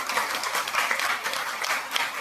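Dense, steady applause from a group fills the whole moment, with no voices rising above the clapping.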